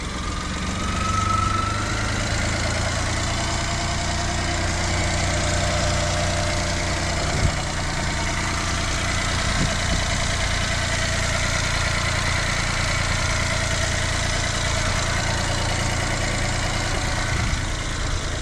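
A Suzuki Alto Works RSZ with 149,000 kilometers idles steadily after starting, a close, even mid-to-low engine hum with slight vibration and a few faint knocks, no voices.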